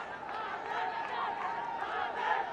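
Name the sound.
cricket crowd cheering a boundary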